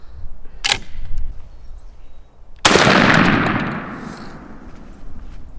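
A shotgun fires light turkey loads outdoors at a target, a sharp distant report followed by a single loud close blast with a long rolling decay, no talk.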